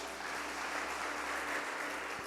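Steady applause from a church audience at a Christian sermon, a dense continuous wash of clapping at moderate distance with no voices over it.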